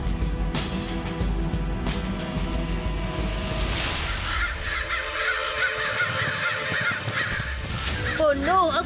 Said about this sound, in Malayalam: ആ കാക്കകൾ നമ്മളെ കണ്ടു കഴിഞ്ഞു.